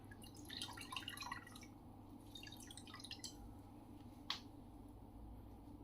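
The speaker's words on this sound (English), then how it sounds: "Just got a bit more water onto the towel" Water drips and patters as a towel is wetted during a wet shave cleanup, a faint cluster of small splashy drops early on, then more drips and one sharper isolated splash, all quiet against a steady low background hum.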